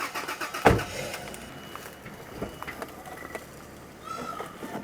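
A Toyota FJ80 Land Cruiser with a 3-link suspension build idling and rumbling as it backs up over rocks, a low steady engine drone with a sharp knock near the start and faint creaks and clunks following.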